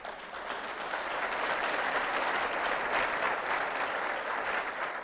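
A church congregation claps together during a Spanish-language sermon, a thick, steady wash of applause that swells slightly and holds throughout.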